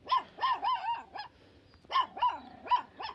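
A puppy barks in quick high yips, two bursts of several barks separated by a short pause, fairly close and loud.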